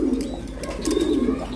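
Mili racer pigeons cooing close by, a low throaty bubbling coo repeated in soft swells, with faint background chirps and no speech.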